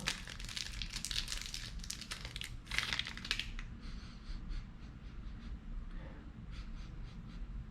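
Crinkly cellophane or wrapper rustles and crumples as an H. Upmann by AJ Fernandez Nicaragua cigar is unwrapped, close and bursty for the first few seconds, then softer handling noises.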